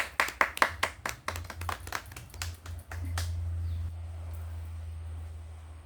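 Clapping at a stage dance performance: a short burst of sharp, close hand claps in an uneven rhythm that stops after about three seconds, leaving a low steady hum.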